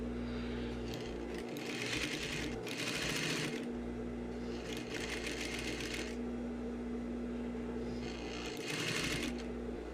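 A sewing machine stitches a zipper into a pair of trousers, running in several bursts of rapid, steady needle chatter separated by short pauses, close and clear over a constant low hum.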